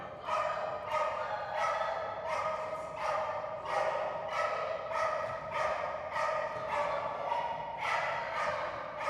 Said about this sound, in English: I don't think you're going to get it by just barking at it, though.